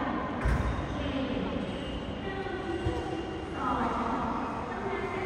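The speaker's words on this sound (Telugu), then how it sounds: "మన ట్రైన్ అయితే వచ్చేసింది" A Laos bullet train arrives at the station on the Vang Vieng to Luang Prabang line, a broad low rumble with a rising hum building near and loud, while people talk nearby.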